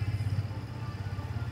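A Yamaha XSR 155 motorcycle engine idles close by with a steady, low, pulsing throb and light mechanical clatter, running alone without voices.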